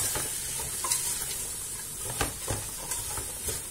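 White beans with parsley and coriander are stirred in a cooking pot, producing a steady close sizzle with a few soft knocks and scrapes as the mixture is turned.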